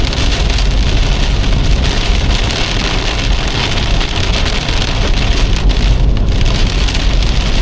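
Heavy rain pelting down during a thunderstorm, a loud, dense, continuous drumming close by, steady throughout with no voices.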